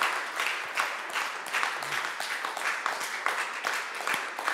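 Congregation clapping in a church service, steady dense applause with rhythmic bursts running throughout at moderate loudness.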